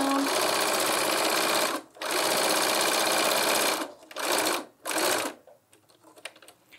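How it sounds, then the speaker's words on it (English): A sewing machine runs in sustained bursts while stitching down the pocket of a lined tote bag: two long steady runs, then two short spurts, ending with quiet handling noises. "So for now, I'm just going to sew this"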